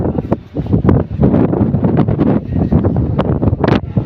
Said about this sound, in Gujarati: દરિયામાં પવનની લહેર જોરદાર આવી રહી છે.